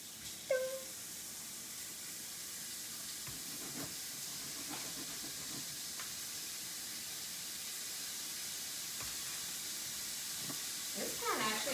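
Mini burger patties for bacon cheeseburger bites sizzle in a pan, a steady broadband hiss lasting throughout with faint clicks and a few brief handling knocks.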